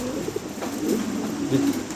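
Pigeons coo steadily at a village poultry farm in Pabna district, Bangladesh, their low, throaty calls overlapping in a continuous murmur at close range with no talking.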